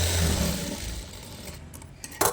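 Sewing machine running stitches through lined blouse fabric, a dense steady whirring rattle for about two seconds that eases off, followed by a brief clack.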